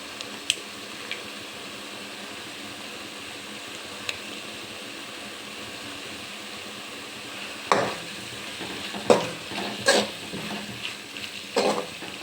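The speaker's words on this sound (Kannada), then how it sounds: "ಇದಕ್ಕೆ ಸ್ವಲ್ಪ ತುಪ್ಪ ಹಾಕ್ತಾಯಿದ್ದೀನಿ ಸ್ವಲ್ಪ." Ghee heating in a pan gives a soft, steady low sizzle, broken later by several louder scraping stirs of a spoon against the pan in a short irregular cluster; no talk.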